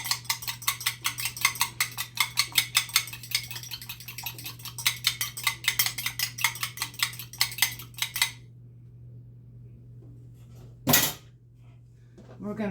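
A fork beating egg wash with water in a bowl, rapid rhythmic clinking of metal against the bowl for about eight seconds over a steady background hum, followed by quiet and one brief knock.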